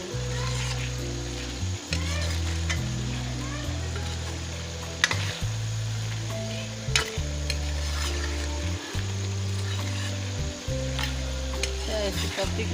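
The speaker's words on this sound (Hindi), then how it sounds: "चिकन फ्राई होने वाली है" Chicken pieces frying in a pan for a chicken handi gravy, a steady loud sizzle with stirring and scraping throughout, while low tonal background music plays underneath.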